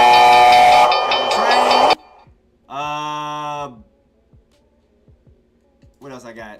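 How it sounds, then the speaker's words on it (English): A soundboard plays a train effect: a loud sustained hiss-like burst, then a harmonic whistle tone of about a second, and a shorter whistle near the end, with clicks between. "Train."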